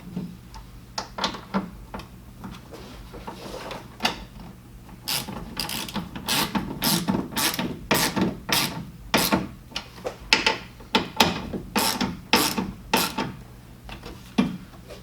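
Mounting fasteners on a truck bed cover for a GMC pickup being tightened down with a ratchet, a long run of quick, sharp clicking bursts in uneven clusters, close and clear with no talk.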